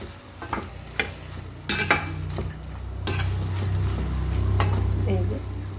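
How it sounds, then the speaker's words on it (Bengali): Pumpkin stems and lentil badi curry are stirred in a pan, with sharp clinks and scrapes of a spoon against the pan over a constant low sizzle, a few separate strokes and then a quieter bubbling stretch. "একটু নাড়াচাড়া করে নেব।"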